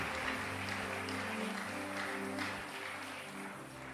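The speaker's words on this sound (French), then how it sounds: "Acclame très très fort le Seigneur." A church congregation applauds and acclaims the Lord during a worship service, with dense sustained clapping and cheering voices filling the room, steady and loud, slowly easing off toward the end.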